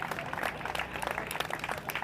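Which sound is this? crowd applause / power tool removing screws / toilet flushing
crowd applause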